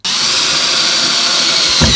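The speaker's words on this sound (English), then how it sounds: "now we've got a teeny tiny drill bit. And we're going to drill 3 holes, roughly in the middle." A tiny drill bit bores holes into a steel offcut for a puukko knife blade, giving a steady, loud, close high-pitched whine that runs the whole time without pause.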